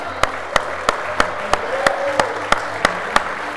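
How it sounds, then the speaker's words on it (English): At an awards ceremony, an audience gives a round of applause heard as about ten distinct, evenly spaced claps over a steady crowd murmur. "let's give him another round of applause"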